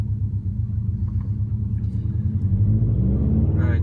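A Subaru STI pulls away and drives, its engine a steady low rumble with road noise that swells slightly toward the end, close and continuous with no talking.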